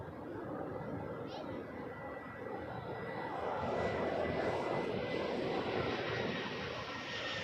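An Airbus A320 airliner at Toronto Pearson airport roars steadily with jet engine noise that grows louder midway. Speech from air traffic radio is faintly audible beneath it.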